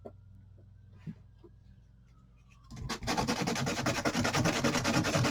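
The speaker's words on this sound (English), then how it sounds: "I'm just sanding them off a little bit, like so" Quiet at first, then steady, loud rasping of sandpaper rubbed back and forth on wooden paint stir sticks, continuous and close.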